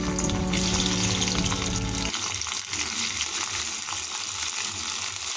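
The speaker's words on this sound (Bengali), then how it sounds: "এখন আমরা এই গরম তেলের উপরে কেটে রাখা 500 গ্রাম ভেন্ডি যোগ করে দেব।" Cut okra, about 500 grams, tipped into hot oil in a kadai, giving a loud, steady sizzle and hiss that carries on without a break, with a stirring sound under it.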